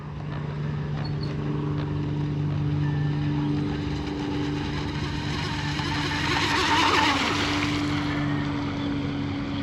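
A J&R Marine H17 RC hydroplane boat runs across open water, its motor holding a steady buzzing drone for the whole stretch with wind and water wash mixed in.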